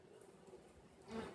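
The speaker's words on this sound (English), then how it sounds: "just enjoy the company of these beautiful bees" Faint buzzing of bees hovering close by, a soft steady drone that swells briefly near the end.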